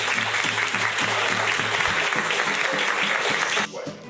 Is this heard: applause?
yes